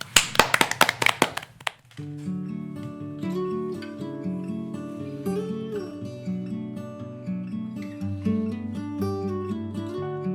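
A studio audience claps in a brisk burst for about two seconds for a healing song on a Korean finance talk show, then the song's instrumental music starts and carries on alone.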